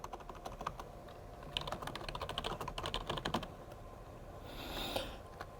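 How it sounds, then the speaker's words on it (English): Keys clatter on a computer keyboard as a full name is typed, a quick close run of soft clicks in short bursts, then a pause with a faint rustle. "you're going to type your full name here."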